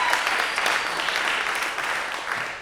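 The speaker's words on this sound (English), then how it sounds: "Give him a round of applause." Broad, steady applause from a live comedy podcast audience cheering for T-Bone McMuffin, loud and continuous throughout.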